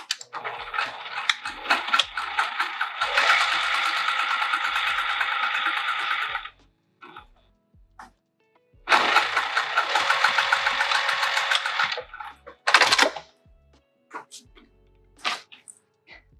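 A sewing machine back stitches fabric for a Barbados bag. Two long bursts of rapid, whirring stitching are separated by a pause and followed by short clicks and shorter runs.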